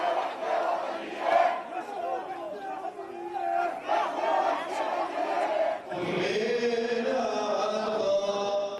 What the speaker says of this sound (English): Crowds filling the small streets of this ancient city